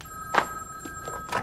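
Telephone ringing indoors on a children's television set, two brief electronic trill bursts with a short gap between them, moderately loud and without talk.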